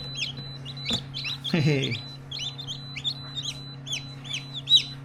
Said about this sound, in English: Not a Brahma, not a Brahma. 2 Brahmas. Alright. Cool. Australorp, it looks like.